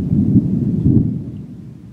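Deep, close rumble of thunder rolling continuously at a campsite on a solo canoe trip, slowly fading out over a couple of seconds.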